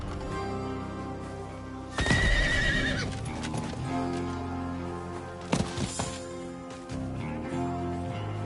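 A horse whinnies loudly in Diablo IV over a steady low game music bed, followed by a few hoof thuds and short clip-clop steps.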